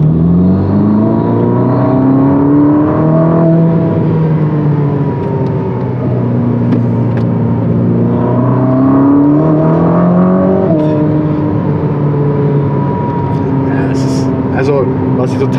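A 1000 PS Ferrari SF90 accelerating hard in race mode, its engine note climbing through repeated upshifts as a loud, close, continuous roar from inside the car, with someone talking over it.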